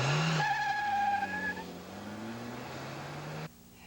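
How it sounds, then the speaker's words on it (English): Car tires screech in a skid during a 1981 driving test, a sharp squeal that slides in pitch for about three seconds and then cuts off abruptly. "I'll show you how to pull out of a skid."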